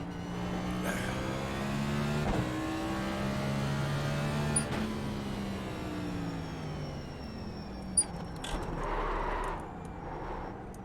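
An iRacing Next Gen race car engine drones steadily in a video game, its pitch climbing and dropping through blips and downshifts, with a faint higher whine over a constant loud roar.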